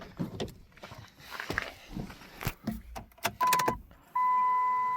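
A Chrysler Town & Country minivan engine with about 326,000 miles, mid-service on its water pump, timing chain and seals, is cranked over: clunks and handling noises first, then a steady, loud starter whine near the end.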